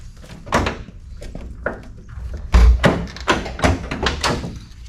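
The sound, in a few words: 1971 Firebird car door lock being operated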